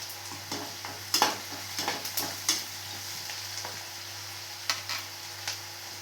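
Mustard seeds, chopped onion and chili fry in a pan for a moong dal and amaranth greens stir-fry, a steady close sizzle broken by crackling pops and a few sharp spoon-stirring scrapes.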